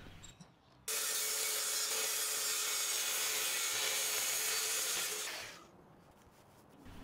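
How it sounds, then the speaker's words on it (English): A circular saw cuts plywood at a 45 degree bevel while building a little free library, running as one loud, steady cut of about four and a half seconds before winding down, with a quieter tail afterward. "Next I'll adjust my circular saw to cut a 45 degree angle and then I'll cut along my mark at each piece"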